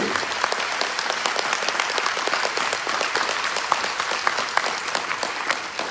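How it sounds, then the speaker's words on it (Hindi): A crowd claps steadily throughout, dense and even applause at moderate loudness with no voices standing out. "और जोरदार तालियां होनी चाहिए"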